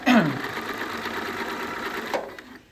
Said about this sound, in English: And just sew this on the back.